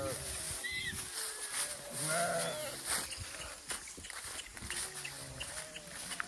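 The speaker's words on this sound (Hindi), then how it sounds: "ये भेड़ है जो मेरी है, मतलब मेरी। ये बकरियां हैं देखिए हमारे साथ, जो ये चरने के लिए जा रही है।" Goats and sheep from a large flock bleat repeatedly as they move out to graze in Chhattisgarh, several overlapping calls near and farther off over steady outdoor noise, with a voice talking among them.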